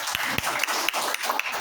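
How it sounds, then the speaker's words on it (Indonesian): A classroom group claps for a presentation by group 2, a short burst of steady, moderately loud applause from several people. "Beri tepuk tangan untuk kelompok 2"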